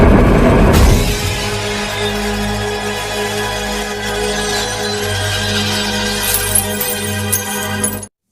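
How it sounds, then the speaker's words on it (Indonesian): Glass shattering from X-Men: Days of Future Past, where a glass wall dividing a prison cell is smashed: a sudden loud crash followed by scattered tinkling debris over a sustained film score that stops abruptly at the end. "Dengan kekuatannya, Peter pun bisa menghancurkan kaca tersebut."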